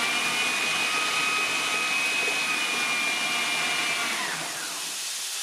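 A food processor whizzes onions in a loud, steady whirring roar with a faint high whine, then winds down and stops near the end.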